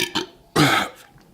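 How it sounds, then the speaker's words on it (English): A man lets out a loud belch, preceded by a shorter burp-like grunt, close to the microphone and alone. "Not enough room to belch"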